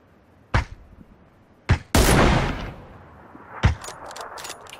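Sharp, isolated gunshots from PlayerUnknown's Battlegrounds, three or four separate loud cracks spaced apart, one ringing out with a longer tail, against a quiet background.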